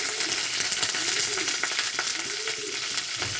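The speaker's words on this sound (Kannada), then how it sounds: "ಹಸಿಮೆಣಸಿನ್ಕಾಯಿ ಕರಿಬೇವು ಸ್ವಲ್ಪ ಎಣ್ಣೆಯಲ್ಲಿ ಫ್ರೈ ಆಗಬೇಕು" Mustard seeds, curry leaves and green chilies frying in hot oil in a pan, a loud close sizzle with scattered pops and crackles and a few stirring scrapes.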